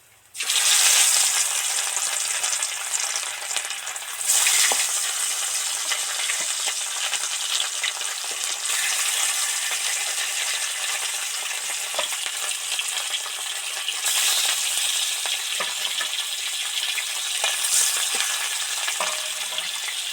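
Bhola fish deep frying in hot oil, a steady loud hiss and crackle throughout with occasional clinks and stirring noises, no voices.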